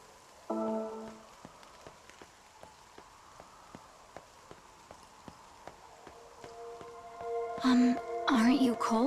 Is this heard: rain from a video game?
yes